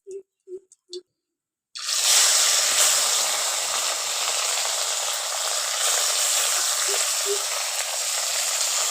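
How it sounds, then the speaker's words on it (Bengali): Morla fish drop into hot oil in a pan: a few light clinks in near silence, then a sudden loud, close sizzle that bursts in and keeps crackling steadily. "এবার ওই তেলের মধ্যে মাছগুলো দিয়ে দিচ্ছি।"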